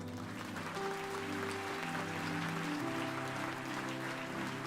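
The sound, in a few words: church congregation applause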